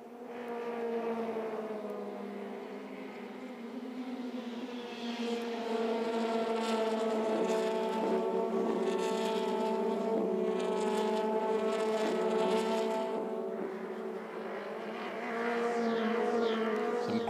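Formula Renault Eurocup single-seaters at the Hungaroring scream past in a sustained, high-revving engine wail, rising and shifting as the cars battle closely for the lead, loud and continuous with no voices.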